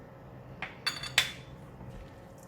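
Fried yee mee noodles with garlic and bok choy are tossed in a pan, with a few sharp metallic clinks and scrapes of utensil on pan over a low steady background hum, and no voices.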